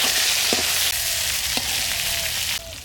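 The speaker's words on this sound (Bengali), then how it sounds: "মাছের তেলেই আমি পটলগুলো ভেজে নিচ্ছি প্রথমে।" Pointed gourd frying in leftover fish oil after katla fish was fried, a steady close sizzle throughout with a couple of brief stirring clicks and no talk.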